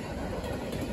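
Norfolk Southern freight train NS11K rolling past near Macungie, Pennsylvania, a steady loud low rumble with a broad wash of track and wheel noise and no voices.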